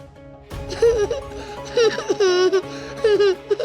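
A kidnapped child's vocal cries in a dramatic scene, wavering high-pitched wails and sobbing bursts that come in several uneven phrases over a low background hum.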